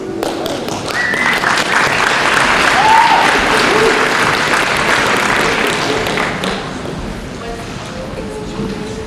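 An audience at a public school board meeting claps steadily for several seconds, a dense wash of applause with murmuring voices underneath, fading slightly toward the end.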